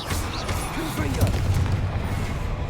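Confringo explosive spell blast in the Hogwarts Legacy video game, a heavy booming impact swelling around the middle over continuous low rumble, with a voice speaking over it.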